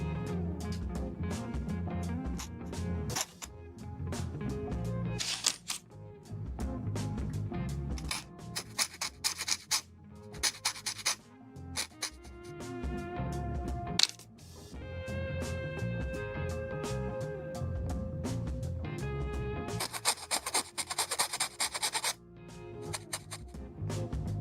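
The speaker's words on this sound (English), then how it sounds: "It's a very coarse file, so you don't need to press hard to remove material." A very coarse file scrapes a plastic part from a 1/144 HG Bandai Gundam kit (RGM-96X Jesta Cannon), with light, close, intermittent rasping strokes. They come in short bursts separated by brief pauses and small handling knocks.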